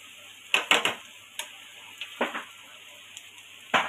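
Tomatoes dropped into a pan of fried onion for sukha bombil (dried Bombay duck), a few sharp sizzling bursts and clatters with quieter gaps between, close and without talk.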